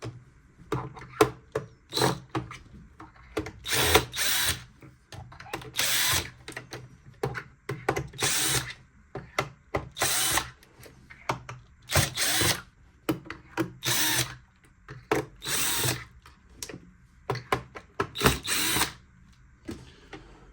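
A power screwdriver backing screws out of a Roventa 75s robot vacuum during repair, in short repeated whirring bursts separated by pauses, close and clear with no talk.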